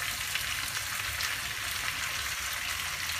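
Thick-cut onions hit a hot pan for a spicy chicken dish, giving a steady, close, hissing sizzle of frying that stays even and continuous with no talking.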